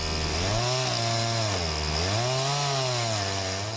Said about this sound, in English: Then a chainsaw rigged with an Alaskan mill begins its part of the canoe making